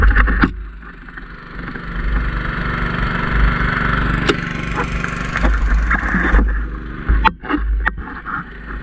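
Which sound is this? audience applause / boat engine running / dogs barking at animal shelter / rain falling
boat engine running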